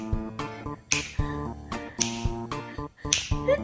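Fingers snapping close to a sleeping cat, crisp snaps landing about once per second over a steady musical backing.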